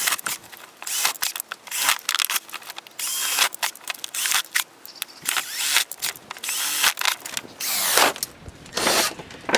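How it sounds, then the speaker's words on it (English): Drainage holes being punched through a plastic seed-starting container, heard as a dense series of close, sharp crunching pops and cracks in quick, uneven bursts with brief pauses between them. "Alright, so I put some holes in here. Just enough for drainage."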